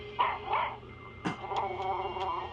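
A dog in a home setting gives a few short whimpers and yips, then a sharper bark-like yelp, fairly close and moderately quiet, with no talking.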